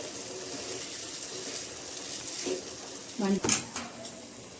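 Potato snack pieces slide into hot oil, raising a steady close sizzle with a few sharp clinks and splashes of a utensil against the pan toward the end.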